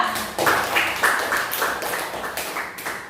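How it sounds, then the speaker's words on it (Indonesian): Students in a classroom applaud a group presentation, giving a few seconds of fairly close, uneven clapping in short bursts. "tepuk tangan buat kelompok 2"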